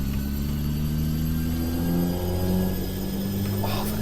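A truck engine in American Truck Simulator hums steadily and rises in pitch as it revs, a continuous mid-range drone with a slight swell partway through.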